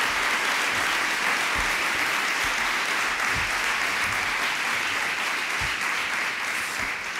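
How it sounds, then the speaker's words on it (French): Audience applause at the opening of a parents' conference, a dense sustained wash of clapping that runs evenly throughout, loud and close with no talk over it. "Je vous propose qu'on les applaudisse encore"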